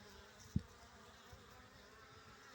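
Soft, steady buzzing of many worker honeybees landing at and taking off from the hive front, with a single faint thump near the start and no voices.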